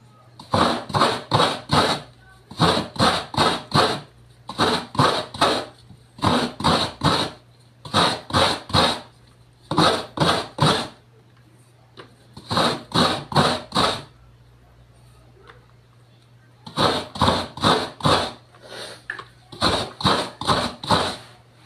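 Coconut meat being grated by hand, heard as rapid rhythmic scraping strokes in close bursts of four or five, separated by short pauses over a steady low hum.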